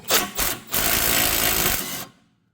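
A power tool whirs in short bursts and then a sustained run of about a second while removing bolts from a vertical suspension link on an S550 Mustang, loud and close, ending abruptly.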